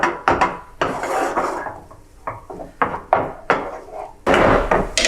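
Tomato paste being stirred into a sauce in a pot for a margherita pizza: irregular scraping and knocking of a utensil against the pot in quick bursts, fairly close, with no talk.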